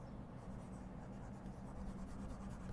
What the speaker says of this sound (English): so let's erase this